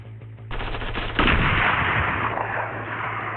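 Rapid automatic gunfire from marauders shooting in the video game Fortnite, a loud continuous burst that intensifies midway and keeps rattling without pause.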